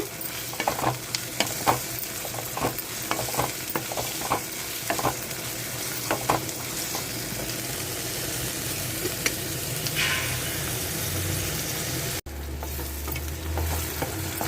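Onions and green chilies fry in a pan for a spiny gourd and cashew curry, with a constant close sizzle and frequent clattering stirs. The sound briefly drops out near the end, then a duller sizzle resumes.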